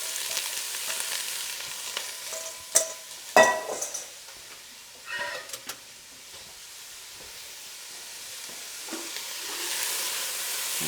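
Onion fries in oil in a pan, a faint high sizzle broken by a few sharp clinks and scrapes as it is stirred, growing slightly louder near the end.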